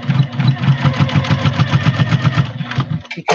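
A sewing machine stitches quilt seams in a fast, even pulsing whir, close and loud. The run ends abruptly, followed by a brief click.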